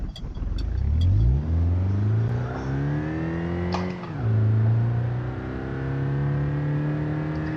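Simulated car engine in the BeamNG.Drive driving game revving up through rising pitch, dipping briefly at a shift, then climbing again in a steady loud drone; no talking.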